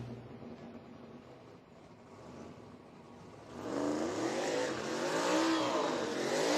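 A 1988 Ford Mustang drag racing car fires up, a quiet idle rising midway into a louder, wavering revving engine note that stays up to the end.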